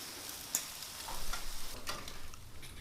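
Shrimp in sauce sizzling and charring on aluminum foil on a grill, a soft crackling fry with a light tap at the start, faint and steady.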